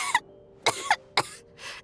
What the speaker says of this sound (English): How long have you had that cough